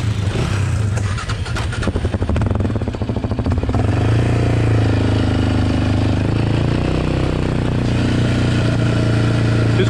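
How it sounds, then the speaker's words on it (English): A quad ATV engine with a gummed-up idle screw runs rough on a Michigan trail, a loud, steady low drone with uneven pulsing chatter early on that settles into a constant hum, with no talking. "This quad's not idling."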